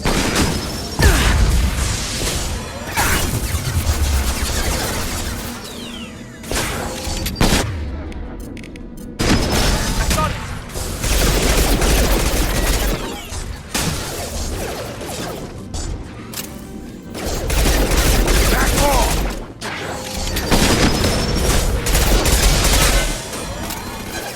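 Sustained gunfire from a Mass Effect 2 firefight on Freedom's Progress, with bursts of automatic weapons, booming impacts and mechanical clatter that rise and fall across the scene, loud and dense, with brief lulls between volleys.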